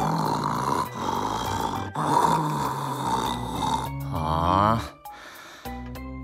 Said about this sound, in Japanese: 今度は口でいびきかき始めた